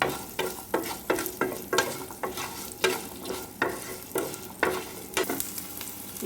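Garlic cloves fry with turmeric in a pan, stirred in a steady rhythm of scraping strokes over a soft continuous sizzle, close and moderately loud with no talking.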